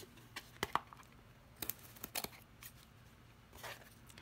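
Scissors trimming the ragged paper edges of a fall junk journal page: a handful of brief, crisp snips scattered at irregular intervals, close and fairly quiet, with no talking.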